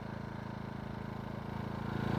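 An AIVOLT 1600W super quiet inverter generator running, a steady close mechanical hum with a fast regular pulse that grows slightly louder toward the end, no voices.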